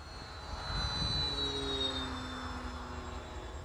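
Arrows RC Bearcat model plane with a damaged two-blade propeller flying at three-quarter throttle, a faint, distant steady motor whine swelling slightly as it passes, heard alone without voices.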